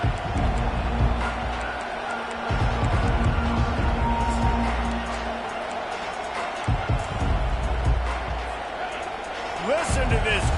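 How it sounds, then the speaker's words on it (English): A college football stadium crowd at a Virginia Tech Hokies versus Marshall Thundering Herd game roars steadily and loudly as the defense takes the field, while an announcer speaks over the noise. "Listen to this crowd just shaking the girders of this place, trying to help their defense"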